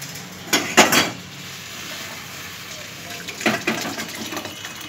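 Jute leaf curry pouring from a cooking pot, with two brief bursts of clattering metal and liquid splashing separated by a quiet stretch, close by.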